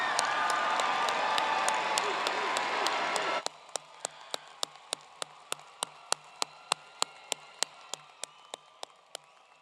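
Graduates at a Fall 2018 commencement clap for their families in a dense burst of crowd applause that stops abruptly, followed by a steady series of evenly spaced sharp clicks.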